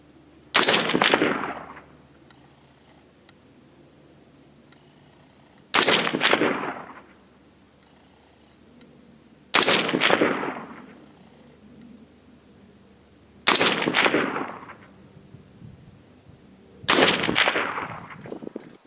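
Five loud rifle shots from a .223 firing cast-bullet loads with IMR4064 powder, spaced several seconds apart outdoors, each a sharp crack with a short trailing echo and no talking.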